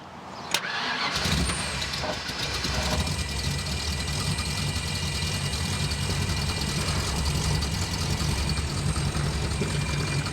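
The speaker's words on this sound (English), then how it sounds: "Let's let it idle for a bit. I mean, it idles aggressively. It sounds mean" A custom Mustang engine with a custom exhaust catches and settles into a loud, rough, aggressive idle, a deep rumbling drone that holds steady for about nine seconds, close and alone.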